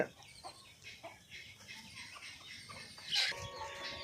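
A mother hen clucks among her chicks on a farm, soft repeated clucks with thin high chick peeps, one brief louder squawk near the end, all fairly quiet and close.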